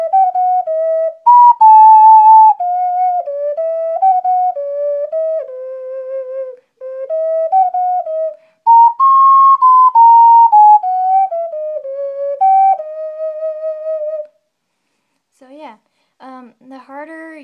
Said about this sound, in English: The harder you blow into an ocarina, the louder it becomes.